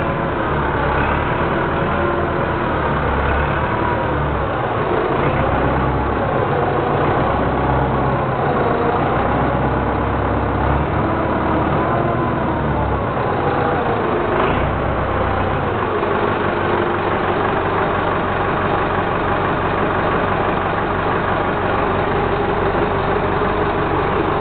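A car engine held at raised revs to warm it up, a loud, close and continuous drone that rises and dips slightly in pitch throughout, with no talking over it.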